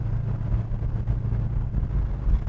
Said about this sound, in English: them 454s making a nice note coming out of those Flowmaster mufflers